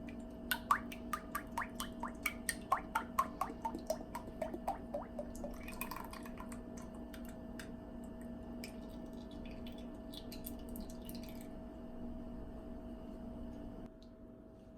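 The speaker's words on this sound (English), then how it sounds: "we are going to pour our heavy whipping cream" Heavy whipping cream poured into a pot on a stove over low to medium-high heat: a quick run of close, evenly spaced drips and splats, then a steady soft liquid hiss with no talking.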